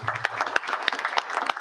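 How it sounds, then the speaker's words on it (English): Audience applause at a gun control legislative event, a steady patter of many hands clapping at once in a hall, dense and continuous with a few sharper claps near by. "let's give them a round of applause"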